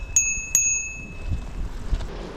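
A bicycle bell rings twice in quick succession, bright and clear, its tone lingering briefly over faint outdoor rumble.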